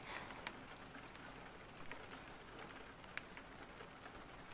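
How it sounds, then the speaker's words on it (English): Quiet rain patters against a window in a steady, even hiss, with scattered faint drops ticking on the glass and no other sounds. "How about we stay inside, watch the rain trickle down the window"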